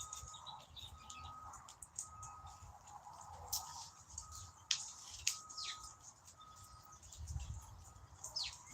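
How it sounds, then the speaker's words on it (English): Chickadees, finches and titmice at a backyard bird feeder give faint, scattered chirps and short tweets over a low outdoor rumble, with a few sharper high calls standing out. "we have a lot of birds starting to come and feed on the feeder"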